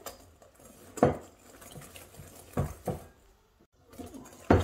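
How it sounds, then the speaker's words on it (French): A utensil stirs a milk mixture for pastry cream in a pan on the heat, made for a chocolate cake. Irregular scraping and a few sharp, close clanks against the pan come and go, with brief quiet gaps. "je viens mélanger tout simplement"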